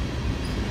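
Long oil train rolling past behind a single SD70ACe locomotive, a steady, loud low rumble of railcars and wheels on track, unbroken and close by, with no voices.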